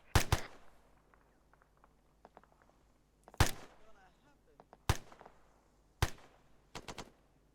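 Gunfire during military convoy training, several sharp loud cracks in separate bursts, some single and some quick doubles and triples, with quiet gaps and faint radio chatter between.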